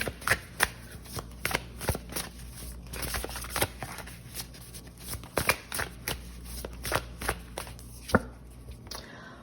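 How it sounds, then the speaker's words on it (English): Tarot cards are shuffled close up in a quick, uneven flurry of crisp riffles and soft slaps that repeat throughout, with no voice over them. "Let's pull another card here."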